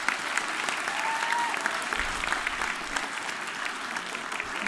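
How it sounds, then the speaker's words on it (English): Applause from an audience at a high school Veterans Day ceremony, a steady, full clapping crowd throughout with faint voices murmuring beneath. "can we have a round of applause for Mr."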